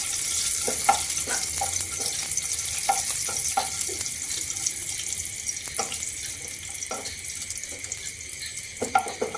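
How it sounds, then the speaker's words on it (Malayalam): Cashews roasting in hot ghee for a flattened-rice halwa, a continuous close sizzle with occasional soft stirring clicks and pops over the crackle. "അണ്ടിപ്പരിപ്പ് ഒന്ന് റോസ്റ്റായി വരട്ടെ കേട്ടോ നന്നായിട്ട്"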